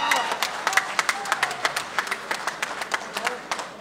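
Scattered, uneven clapping from an audience, with individual claps standing out over a steady background murmur; a moderate, thinning round of applause.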